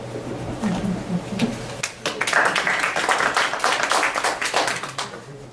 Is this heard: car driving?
no